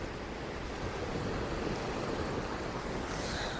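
Sea waves wash steadily onto Folkestone Beach in early morning, a continuous broadband roar of surf with faint wind noise, a fizzing hiss near the end as the wash recedes.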